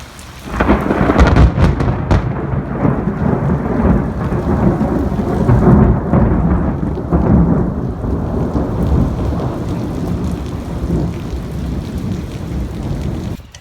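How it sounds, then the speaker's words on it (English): A thunderstorm with loud, continuous rolling thunder over steady rain, the rumble building and swelling through the first half before easing into a softer wash of rainfall toward the end; no voices. "The thunderstorm has passed."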